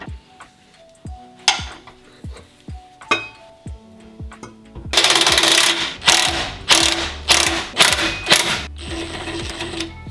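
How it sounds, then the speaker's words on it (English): A 14 mm socket on a breaker bar with an extension loosens the rear shock bolts on an old Land Cruiser, giving a long run of sharp metallic ratchet clicks. The clicks start spaced, then turn rapid and louder near the end. "So I'm using a 14 millimeter socket for both of these bolts, and I've got an extension on my breaker bar."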